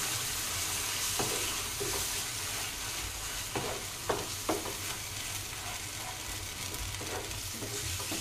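Masala being stirred into a hot cashew curry gravy in a pan, a constant sizzle broken by several sharp spoon scrapes and clacks against the pan, close and fairly quiet.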